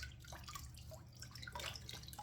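A faucet runs steadily as a man wets his face before a shave, a soft continuous splash with a few drips, faint and close by.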